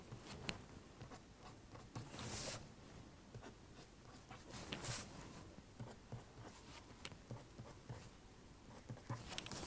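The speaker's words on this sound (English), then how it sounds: "To represent these features, we draw lines like this." A pen or pencil draws lines on paper while illustrating stone tool features, giving a quiet, close scratching with repeated short strokes and a few brisker swipes; no talking.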